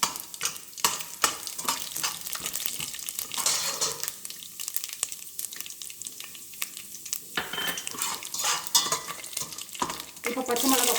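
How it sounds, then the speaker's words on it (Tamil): Urad dal and chana dal frying in hot oil in a pan for vegetable upma, a steady close sizzle with frequent spoon scrapes and stirring clatter, no talking. "இப்போ உளுத்தப்பருப்பு, கடலைப்பருப்பு போடலாம்."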